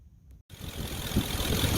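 A Ford 4.6 V8 idles steadily after being started, with a dense low rumble that settles into a continuous drone. A brief dropout comes early, then the sound holds close and fairly loud throughout.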